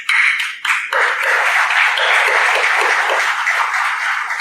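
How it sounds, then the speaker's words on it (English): Applause from an audience at a college induction programme for first-year undergraduates, a dense burst of clapping that begins loud, dips briefly, then carries on steadily and close for several seconds with no talk over it. "So I would like to give you all a big round of applause"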